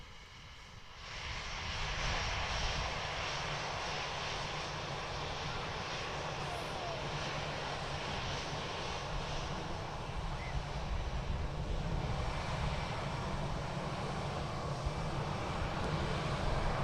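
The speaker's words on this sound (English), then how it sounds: "Good old CFM engines on them. Distinct sound on takeoff." An EasyJet airliner fitted with CFM engines passes by at Manchester Airport, a steady loud jet roar that swells in after a second and holds broadly for the rest, with some wind rumble and no talk.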